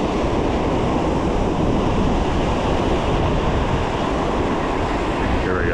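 Ocean waves around a small fishing boat off the New Jersey coast, a steady loud broadband wash of surf and wind noise that fills the whole stretch without pause.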